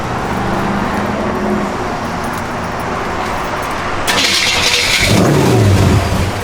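A 1971 Chevrolet Monte Carlo with Holley EFI and a mild cam starts up: steady low rumble, then the engine catches and runs louder with a rough, choppy idle close by, no talking.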